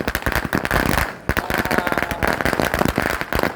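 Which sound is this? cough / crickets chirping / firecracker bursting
firecracker bursting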